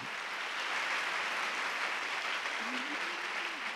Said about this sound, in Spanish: Un aplauso muy fuerte para todos.